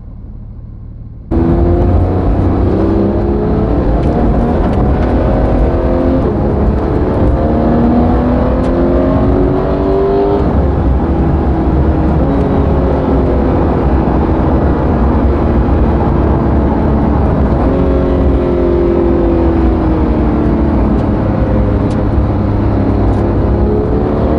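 A Porsche 911 GT3 4.0 with PDK gearbox drives hard, its engine loud and near, revving up through a run of quick upshifts in a continuous rising and falling whine.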